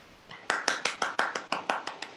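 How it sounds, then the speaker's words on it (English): Clapping from the audience at an InterraIT Dasvidaniya 2020 office farewell event, honouring a music performer: about nine sharp, evenly spaced claps in a steady rhythm, fairly close and clear, with no voices over them. "A big round of applause for Pranav."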